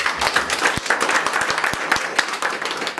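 An audience gives a big round of applause, a lively, uneven patter of many hands clapping continuously, with a few sharper individual claps standing out.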